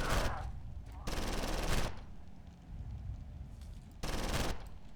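Bursts of gunfire from the horror game Condemned: Criminal Origins, three loud broadband blasts at roughly one-second spacing with a quieter rumbling stretch between them.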